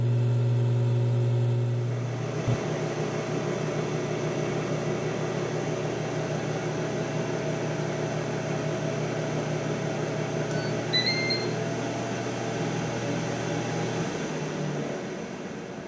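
A Ninja Deluxe Foodi air fryer preheats with a steady, close fan-like whir and low hum that holds evenly for the whole stretch. A couple of faint high electronic tones appear midway.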